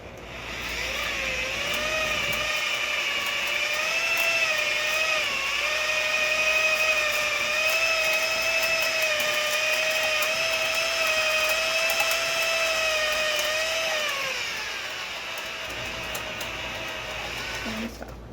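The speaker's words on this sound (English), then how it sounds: "now we've got the drill going in the original direction again" A power drill whines steadily for many seconds while coiling wire on a mandrel for chainmaille rings, its pitch wavering slightly, with faint clicking and scraping as it runs, then winds down.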